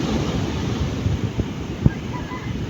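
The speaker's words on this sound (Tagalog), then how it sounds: "Ang lalaki po ng alon" Big ocean waves and surf roar as a steady broadband wash, with wind buffeting the microphone and a brief thump.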